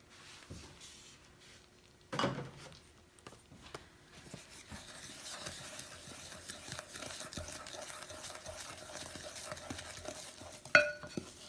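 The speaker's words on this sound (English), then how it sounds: "we're going to add a cup of milk. And we're going to mix all that together" Peach cobbler batter with a cup of milk being stirred by hand in a bowl, a steady soft scraping and sloshing with an occasional utensil clink, close and fairly quiet.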